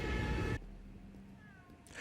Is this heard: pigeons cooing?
no